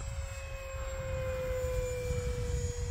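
An E-flite Cirrus SR22T scale RC airplane on a 4S 3200 battery makes a high-speed pass, its electric motor giving a steady whining drone with a low rumble underneath, building slightly as it comes nearer.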